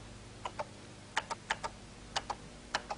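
Keys struck one at a time on a 1983 home computer keyboard, about ten sharp, close clicks in small pairs and clusters, spaced with brief pauses, quiet background, no voices.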